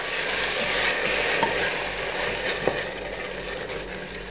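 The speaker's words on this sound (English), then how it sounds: "Now I'm going to add tomato pulp" Tomato pulp sizzles and bubbles in a pan with well-browned onions for an Indian sweet potato curry, a steady close frying hiss with faint stirring scrapes.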